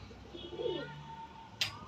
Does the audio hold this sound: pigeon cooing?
yes